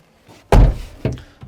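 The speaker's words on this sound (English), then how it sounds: "I'm just going to close the back door just so we've got a little bit less light coming in the back" The rear door of a VW T6.1 Sanna campervan shuts with one heavy, close thud, followed by a softer secondary clunk as it settles.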